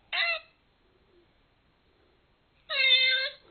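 A cat meow from a children's shape-building app sounds twice, a short synthetic mew at the start and a longer, louder one near the end, with near silence between.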